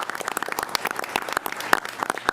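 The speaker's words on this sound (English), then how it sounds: "I'd like to give a round of applause to Mr. Baldessari" A smaller group claps at a school board meeting, individual hand claps clearly distinct and irregular, moderately loud and close, lasting a couple of seconds without talk.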